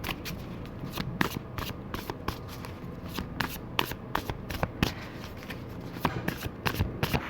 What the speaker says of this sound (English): let's pull a few cards out here for your advice